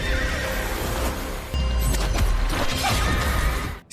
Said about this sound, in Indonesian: Saint ke-8 mulai serius dengan melancarkan serangan super kuat berbentuk jiwa kuda